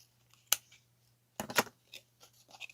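Scissors cut paper for a Rainbow High inspired junk journal, giving one sharp snip near the start and then a short cluster of crisp snips, quiet and close with no talk.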